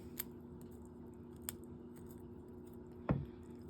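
Scissors cut through the back of a dead grouse's skull during taxidermy prep: a few faint clicks, then one loud, close, crunching snip near the end over a low background hum.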